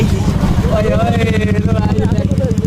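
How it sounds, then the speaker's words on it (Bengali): Low, throbbing motor drone of a passing motorboat, steady and fairly close, with voices talking over it. "নৌকা চলে যাচ্ছে"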